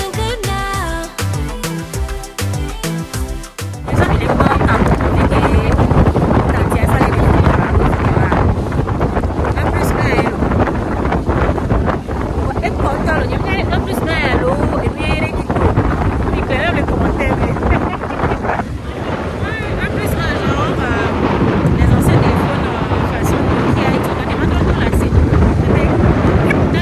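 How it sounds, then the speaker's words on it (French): Strong wind off Lake Annecy buffets the microphone in a loud, continuous roar with gusty surges, following a few seconds of music at the start. "en train de prendre le bon vent du lac d'Annecy dans ma peau"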